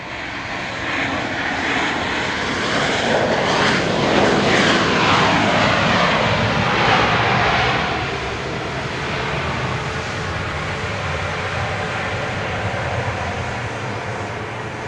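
A Southwest Airlines jet arriving at Dallas Love Field, heard at night as a loud, sustained roar of jet engines that swells as the aircraft passes close by and then eases into a steady, broad rumble.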